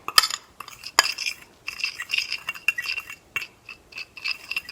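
Pancit canton noodles get mixed with a utensil, sending quick metallic clinks and scraping taps against the bowl in uneven bursts, close and fairly crisp, with short pauses between strokes.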